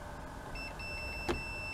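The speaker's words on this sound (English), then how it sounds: "And I hear it beeping, so that means we have continuity" A continuity tester beeps while probing a marina power connection in winter. It starts about a third of the way in as a thin, steady, high electronic tone that briefly drops out, then holds to the end over faint background hiss.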